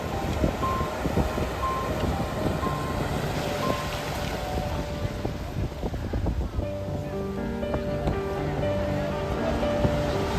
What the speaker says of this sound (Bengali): জাস্ট দেখো কি সুন্দর লাগছে, আর্কটিক ওশিয়ান, ব্যারেন সি, কি সুন্দর।